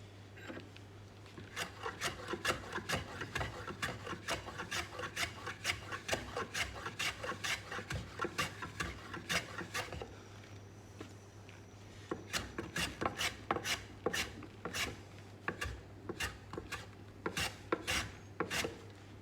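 A hand plane chamfers the edge of a wooden float in quick, regular rasping strokes close by, one burst of passes, a short pause, then another run of strokes.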